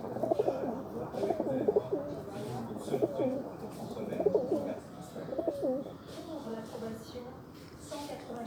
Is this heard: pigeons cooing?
yes